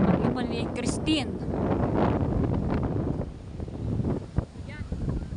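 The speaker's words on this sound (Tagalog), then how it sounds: "lakas po na hangin" Strong wind gusts across a rural Philippine vegetable garden lined with bamboo, buffeting the microphone in a broad rushing roar with rustling foliage, rising and easing over a few seconds.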